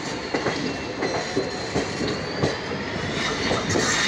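The Shramjeevi Superfast Express of Indian Railways pulls into Ghaziabad with a continuous rumble and rhythmic clickety-clack of wheels over rail joints, heard from on board at moderate loudness with no voices.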